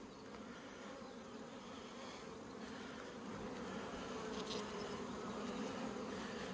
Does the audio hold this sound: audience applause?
no